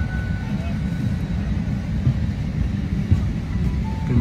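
Steady, fairly loud low rumble of an airplane cabin just after boarding, a constant engine and ventilation drone with faint scattered background sounds and no clear voices.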